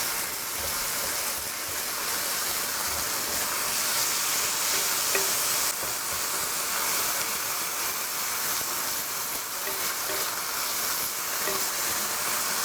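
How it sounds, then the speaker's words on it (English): Beef mince frying with courgette and garlic for a paleo bolognese gives off a continuous, even sizzling hiss at moderate volume, with faint stirring underneath and no voices. "the mince is really starting to brown now"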